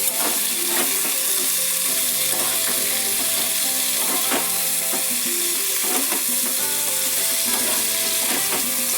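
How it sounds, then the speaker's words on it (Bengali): Cauliflower bhaji frying and being stirred in a pan, with a steady loud sizzle and repeated scraping strokes of the spatula, no voices. "সব দিয়ে ভালো করে নাড়বো, মিশিয়ে নেব সব কিছু।"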